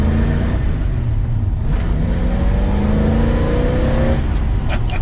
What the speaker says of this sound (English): It does just pick up its heels and go, these V8s.